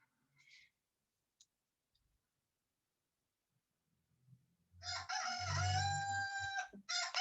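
A rooster crows loudly and nearby in one long, drawn-out call near the end, with a few faint clicks and small sounds in the quiet beforehand.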